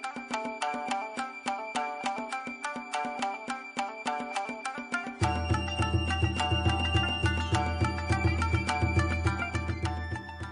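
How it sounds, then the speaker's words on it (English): A shamisen plucked in a quick series of sharp, twangy notes, then joined midway by a lower sustained accompaniment, the plucking continuing rhythmically and moderately loud with no voices. "She's playing a shamisen, which sounds like this."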